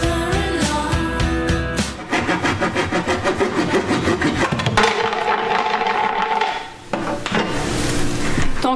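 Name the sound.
sawing the bottom off a balcony compost bin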